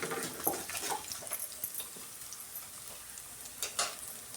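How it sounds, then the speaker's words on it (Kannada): Ingredients seasoned with turmeric and salt fry in a pan for avalakki (flattened rice) pongal, giving a steady close sizzle broken by a few louder stirring scrapes, with no voices. "ಎಲ್ಲ ಪದಾರ್ಥಗಳನ್ನ ಸೇರಿಸ್ಕೊಂಡು ಈ ಥರ ಚೆನ್ನಾಗಿ ಫ್ರೈ ಮಾಡ್ಕೊಳ್ಳೋಣ"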